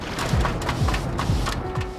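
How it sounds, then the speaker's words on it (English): Repeated brushy swishing strokes of a broom sweeping a floor in the video game Perfect Dark Zero, about four sweeps over a constant noisy background, loud and close. "That sound is actually the sound of someone sweeping the floor."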